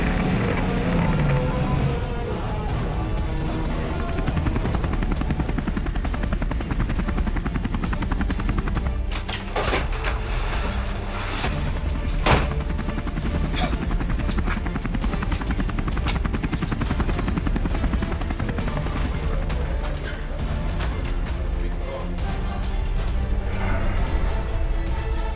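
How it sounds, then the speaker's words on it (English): Helicopters thunder overhead with a steady, loud rotor chop that continues throughout, with a few faint clanks and bangs mixed in. "Y'all hear that? What? Helicopters! Helicopters!"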